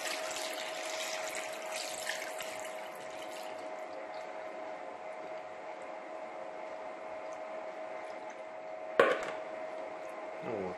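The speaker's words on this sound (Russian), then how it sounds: "И заливаем ее нашим рассолом." Pickling brine is poured over herring in a container, a steady trickling pour that fills most of the stretch, ending with a brief splash and clunk near the end, with no talking.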